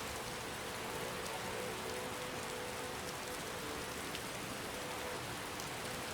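Steady rain pours in the video game Skyrim, a dense, even hiss that stays constant and fairly loud throughout with no voices over it.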